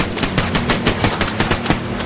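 Rapid automatic gunfire in the video game Ghost Recon Wildlands, a dense, steady burst of close, loud shots rattling continuously for about two seconds.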